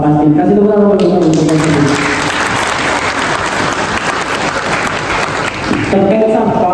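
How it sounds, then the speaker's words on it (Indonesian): An audience at a student forum on banning plastic waste breaks into dense, loud applause that holds steady for several seconds, with a voice speaking briefly before it starts and again as it fades. "Kasih tepuk tangan untuk"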